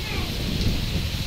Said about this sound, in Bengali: অসম্ভব হাওয়া দিচ্ছে বন্ধুরা, অসম্ভব বৃষ্টি হচ্ছে